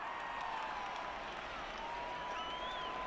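Simulated stadium crowd from a college football video game, the 2021 Holiday Bowl matchup of UCLA against NC State, a steady, dense roar with faint whistle-like tones running through it for the whole stretch.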